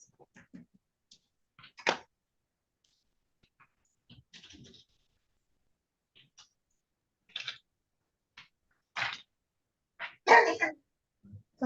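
A single sharp sneeze bursts out in a quiet courtroom video meeting, among scattered faint clicks and small throat noises with long silent gaps.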